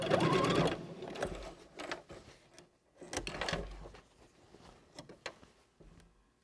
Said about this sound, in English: We're going to stitch the rest of the way down and back stitch.